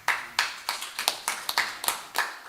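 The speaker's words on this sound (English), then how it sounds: "Stand up, Melanie, for applause" At a breakfast meeting, a few people clap for Melanie in a sparse, uneven rhythm of about a dozen distinct sharp claps, close and fairly clear.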